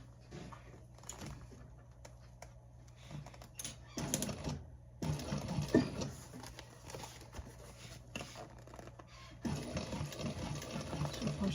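A sewing machine stitching a gusset around a corner, running in short stop-start bursts with quiet pauses between, close but fairly soft.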